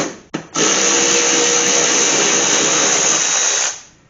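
A power driver spins out Torx screws from the cover of a Craftsman riding lawn mower, with a short buzzing burst followed by a loud, steady whirring run lasting about three seconds that then winds down, close and alone.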